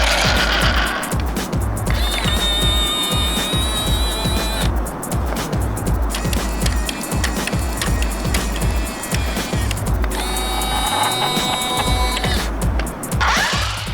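A Fast Lane RC Street Trooper toy car drives and turns on its electric motors, giving a loud, continuous whir with high whining tones and a steady stream of rhythmic rattling clicks.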